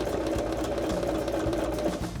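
A sewing machine back-stitches a curtain pleat through fabric and buckram, giving a steady, close, continuous mechanical whir and rapid needle chatter with no pauses.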